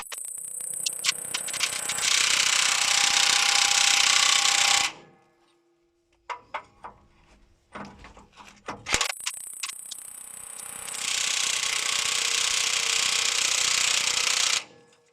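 Makita impact wrench turning nuts: two long, loud bursts of rapid hammering, each about four seconds, separated by a quieter stretch of clunks and handling noises, with no talking.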